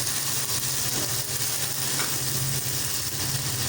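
Steady, close sizzling and frying as blended onion and tomato puree hits mutton liver in a hot pan, with faint stirring scrapes throughout and no talk.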